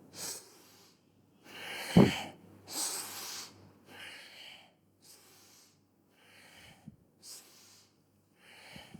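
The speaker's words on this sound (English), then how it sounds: "All the breathing is done through the nose." Slow yogic breaths drawn in and pushed out through the nose, about seven or eight soft, airy bursts in a steady rhythm, close and breathy, with short pauses between them.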